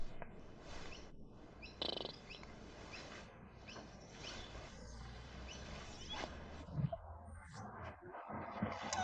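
Birds chirp outdoors on a sunny summer day in the Berry Avenue roleplay game: scattered light tweets over a busy, steady background of ambient game sound.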